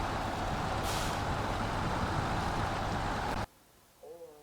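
Truck engine in a snowy driving video game rumbles loudly and steadily, a sharp air-brake hiss bursting in near the start, before the sound cuts out abruptly into near silence with faint tones.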